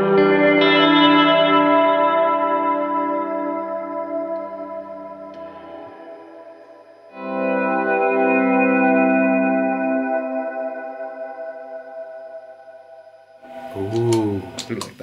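Guitar chords through a reverb pedal, each swelling and ringing out in long washy decaying tails with a shimmering chorus-like texture, two sustained passages in a row, then a brief burst of voice at the end.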